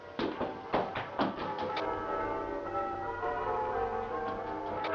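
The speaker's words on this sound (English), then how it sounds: "merry bells." Christmas morning bells ring out in a rapid series of clangs at first, then settle into a sustained, ringing wash of overlapping tones.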